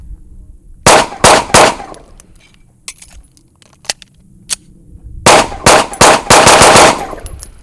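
A 2011-style pistol with a 4.4-inch barrel fired at a shooting range: two fast strings of loud, sharp shots, three quick shots then a longer burst of about six, with a quieter pause between them holding faint clinks.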